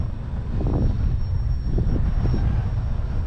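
A radio-controlled Parkzone T28 model airplane takes off at Avon Park, its small propeller motor buzzing up in short surges against steady gusty wind noise.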